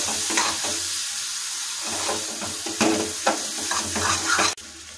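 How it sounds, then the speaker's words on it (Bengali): Ground spices sauté in oil for shol fish kaliya, a loud, steady sizzle close up with occasional scraping strokes of a spoon stirring the pan. "গুঁড়ো মশলাগুলো যোগ করছি, এটাকে ভালোভাবে কষিয়ে নেব।"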